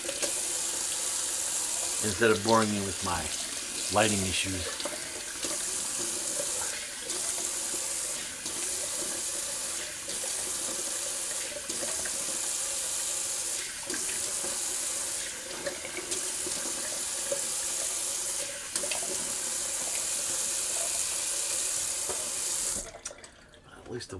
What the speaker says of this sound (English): let's do a little cold water rinse